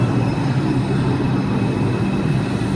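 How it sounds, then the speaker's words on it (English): A New York subway 2 train at a Times Square platform in Manhattan, heading up to the Bronx, gives a steady, loud rumble and rolling rail roar that holds evenly throughout with no voices. "We got a 2 train heading up to the Bronx."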